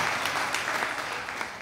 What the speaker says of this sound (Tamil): அவர்களுக்கு உங்களுடைய அன்ப கரகோஷம்.